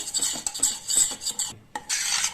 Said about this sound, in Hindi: सूजी को भी हमने गैस की फ्लेम को लो मीडियम करके इसी तरह से भूनना है, बिल्कुल धीरे धीरे